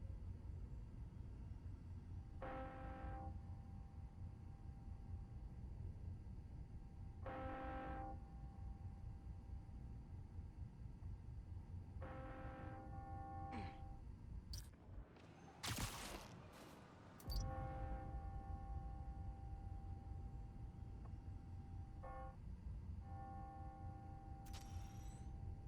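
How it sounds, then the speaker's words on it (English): Bells ringing on the hour, heard as a series of spaced tonal strikes that ring out and decay against a constant low rumble of ambient noise, with a brief louder burst of noise partway through. "Ringing on the hour. When I hear those bells"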